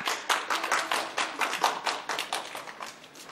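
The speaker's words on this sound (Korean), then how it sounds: "큰 박수 부탁드릴게요." A small audience at a volunteer-centre gathering claps in a steady, fairly close patter of individual hand claps, alone without voices, lasting a few seconds.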